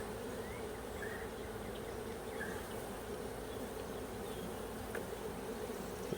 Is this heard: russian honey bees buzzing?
yes